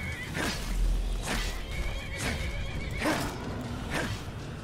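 Horses neigh and whinny in the video game Skyrim during a fight, several high, shaky calls repeating about once a second, with hooves clip-clopping underneath.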